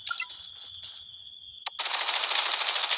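Gunfire in the shooter game Blood Strike: a few clicks and light taps, then a sharp shot and a sustained rapid automatic burst rattling loud and close for over a second.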